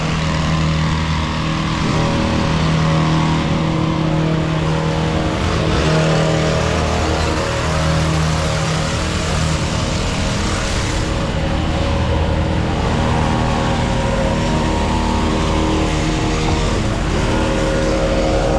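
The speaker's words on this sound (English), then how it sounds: "So we brought the boom vans right in, the bucket trucks." Bucket trucks drive in close during hedge trimming work, a loud continuous engine drone and rumble with shifting tones that holds steady throughout, with no talking.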